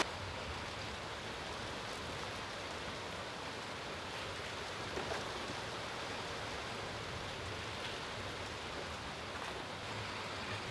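Rain falls outdoors as a steady, soft, even hiss of droplets that continues without a break, with no voices or other distinct sounds.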